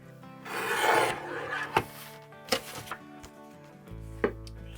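Paper being trimmed to 4 3/4 inches on a paper trimmer at a crafting table, a broad rasping slide followed by several short sharp cuts and clicks, close and moderately quiet, with no talking.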